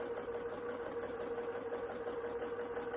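A home sewing machine stitches a three-layer fabric face mask, giving a steady, even mechanical hum with a fine rapid needle rhythm, close and continuous with no talk.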